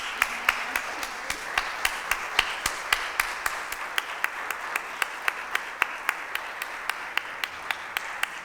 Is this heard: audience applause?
yes